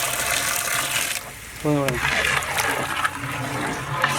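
Water pours into a pot of fish curry with a gushing splash, starting partway through and running steadily while a voice talks over it.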